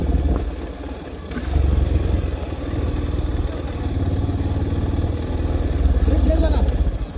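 A motorcycle descending a slope under engine braking, its low throbbing engine rumble loud and close throughout, with wind noise over it.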